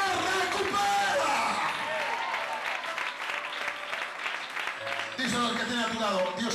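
Loud, dense applause from a church congregation for God runs continuously, with voices calling out over the clapping before it swells again near the end.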